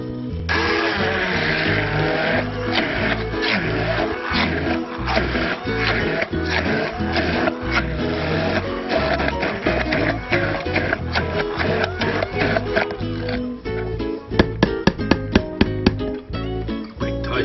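A food processor whirs steadily while blending smoked trevally, a loud, continuous motor drone lasting throughout, ending in a few sharp clicks and rattles near the end.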